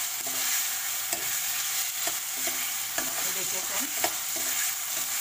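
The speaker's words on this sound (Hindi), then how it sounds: "ये अभी बड़ा हाई फ्लेम कर दीजिए और ऐसे ऐसे मिक्स करते ही जाइए।" Chicken manchurian is stir-fried in a pan over high flame, making a loud constant sizzle broken by regular scraping strokes of the spatula, with a few brief spoken words.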